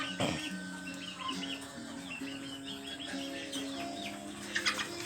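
Chickens and turkeys on a farm at night, a steady low clucking and gobbling chorus with warbling calls layered over it and a few sharper peeps, moderately close.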